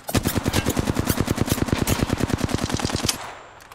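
Sustained automatic gunfire in Apex Legends, a loud rapid string of about thirty shots in fast, even rhythm, then a short fading tail.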